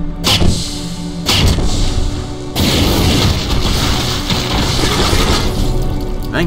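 A flame cannon fires in the first-person shooter Brutal Doom, a loud roaring blast of burning fire that swells in bursts and then sustains as a dense, harsh rush.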